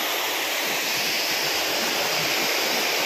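A steady, loud roar of rushing water from a nearby waterfall fills the whole clip without letting up.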